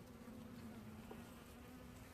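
A dense, steady hum of honey bees fills an opened hive under inspection, the close buzzing holding an even pitch and loudness for the whole stretch, with no talking.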